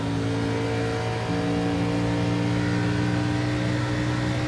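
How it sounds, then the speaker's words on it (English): A K&N Series stock car at Watkins Glen drones under steady throttle, its engine note holding a strong, even buzz that dips briefly and then climbs again, loud and continuous with no voices. "You can hear the throttle control in the car on how tough these places are to drive around."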